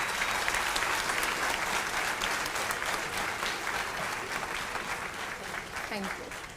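An audience at an international conference session claps for a group of children, a dense, even round of applause that continues steadily and eases slightly toward the end.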